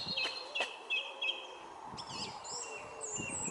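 Songbirds by a canal in mid-February break into early spring song, with several bright, high chirps and whistled phrases repeating at moderate distance over faint outdoor background.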